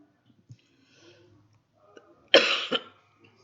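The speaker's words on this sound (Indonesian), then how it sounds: "Maaf ya, saya masih batuk." A single sharp cough bursts out after a few quiet seconds of faint background sounds, followed by a short rasping tail.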